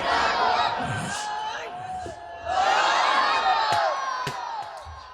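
A large crowd at an Islamic religious gathering roars a takbir chant of Allahu Akbar in unison, two loud swelling waves of many voices shouting together, close and filling the space.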